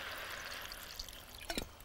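Water poured into a pot of potatoes for a courgette, potato and freekeh stew, a steady trickling pour with a few drips and splashes near the end, no talking.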